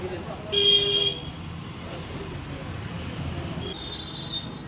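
A Hero Splendor motorcycle horn gives a short, loud honk, then a fainter, longer toot near the end, over steady background noise.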